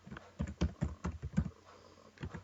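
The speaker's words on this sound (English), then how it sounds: "I'm going to press tab on the keyboard to go into next cell." Keys clacking on a computer keyboard as someone types entries into table cells, a burst of about six close, distinct strokes, then a pause and two more presses alone.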